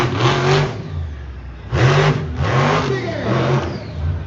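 Monster truck engine at a summer smash show in Evansville, loud and close, revving hard at high RPM in two long surges separated by a brief dip, with a growling roar that rises and falls.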